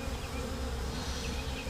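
Honey bees buzz in a dense, steady drone around a wooden hive box set outdoors, close and continuous with no voices.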